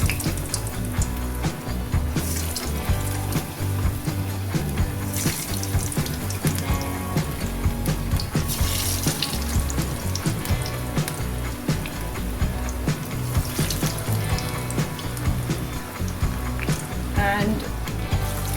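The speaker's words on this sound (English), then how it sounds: "Oil is hot. We'll fry this." Lauki koftas fry in hot oil, giving a dense, continuous sizzle and bubbling hiss that stays loud and steady throughout, with a voice speaking faintly at times.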